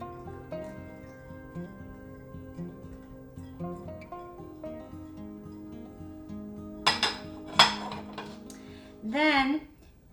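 Chopped onion tipped into a bowl for homemade vegan salsa: a few quick clattering knocks and a brief scraping rattle against the bowl, heard over soft background music.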